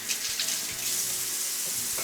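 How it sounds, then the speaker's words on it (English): Hands washed under a running kitchen tap, a close steady hiss of flowing water with small splashes, brief and alone. "Let me just wash my hands a bit."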